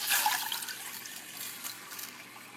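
Egg pudding mixture poured slowly over caramel gives a soft, steady liquid trickle and gentle splashing, close and quiet, with no talking.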